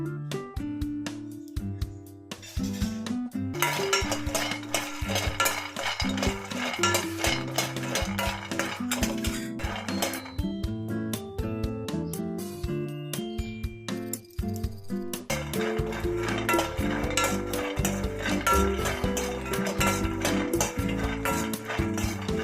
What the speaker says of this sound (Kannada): ಈಗ 1 ಕಪ್ಪು ಕಡಲೆ ಬೀಜ ಹಾಕ್ತಾಯಿದ್ದೀನಿ. ಕಡಲೆ ಬೀಜ ಚೆನ್ನಾಗಿ ಹುರ್ಕೋಬೇಕು.